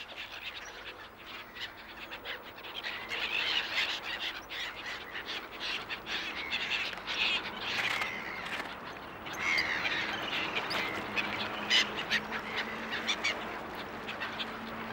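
A large winter flock of ducks and other waterbirds, mixed with city-dwelling birds, keeps up a dense, continuous chatter of quacks, honks and calls, with many overlapping voices at close to middle distance and no speech.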